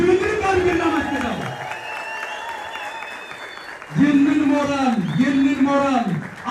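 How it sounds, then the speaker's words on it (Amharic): Crowd at a welcoming gathering in Bahir Dar, Ethiopia, letting out loud, high warbling ululations in rising and falling waves over steady applause, dipping briefly before a second, stronger burst of ululating. "እልል ብለን አንዴ እስኪ ድብልቅልቅ አድርገን እናመስግነው"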